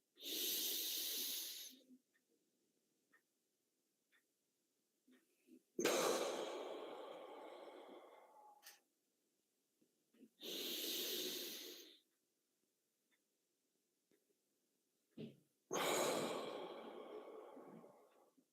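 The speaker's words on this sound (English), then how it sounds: "We're just flopping and breathing, relaxing and breathing." Slow, relaxed breaths taken during meditation, four long airy exhalations and inhalations spaced several seconds apart, soft and close with quiet pauses between them.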